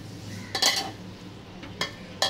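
A spoon stirs cooked pulao rice in a pot, giving a few short, quiet scrapes and clinks against the metal with gaps between them.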